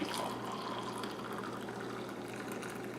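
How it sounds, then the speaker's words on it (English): Homemade chai tea poured into a cup, a steady close liquid stream that runs continuously for the full few seconds without any talk. "go ahead and pour it into your cup"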